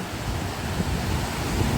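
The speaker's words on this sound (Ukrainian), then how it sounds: "Хвилі серйозні, да, Рася? Такі хвилі?" Sea surf breaks on a beach at Odesa's Golden Shore, a steady roaring wash of waves mixed with buffeting wind noise on the microphone, continuous and fairly loud throughout a short stretch with no voices.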